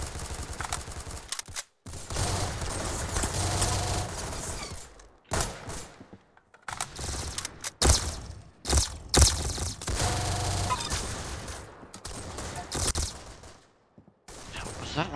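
Gunfire in a shooter video game comes in repeated bursts of automatic shots broken by short silences, with mechanical clicks and scrapes between volleys.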